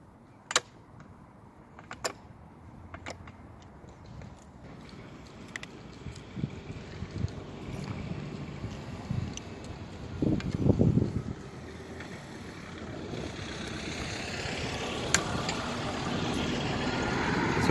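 A Tanaka lawn edger's engine runs with a steady, rough drone that builds toward the end, mixed with wind noise and a few sharp clicks.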